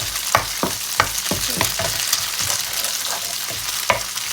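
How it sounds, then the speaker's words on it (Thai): Noodles stir-fried with crab sticks and egg in a pan for a Thai pad see ew, giving a steady sizzle broken by repeated scraping and tossing strokes of a spatula, close and loud with no talking. "เราก็จะผัดเส้นกับปูอัดกับไข่ให้เข้ากันนะคะ"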